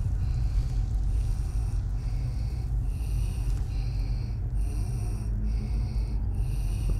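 A prisoner in the game Skyrim breathes heavily, a steady run of rasping, snort-like breaths over a low droning background, near and moderately loud.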